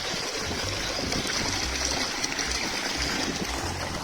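Water gushing under pressure into a bucket: a loud, continuous splashing rush with gurgling underneath, steady for the whole stretch with no voices.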